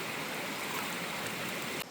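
Creek water flows and rushes steadily near a trail by Little Bradley Falls, a broad constant wash with no talking.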